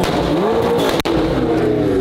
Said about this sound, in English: Rev your car.